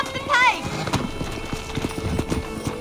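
Horse hooves clip-clopping at pace in the video game Red Dead Redemption, with a short neigh near the start. Steady rhythmic hoofbeats continue under a voice.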